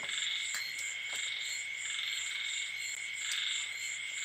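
Many frogs croak in a steady, dense chorus near a rice field at night, with repeated clicking calls rising above a constant high trill. The sound is loud and continuous, with no speech.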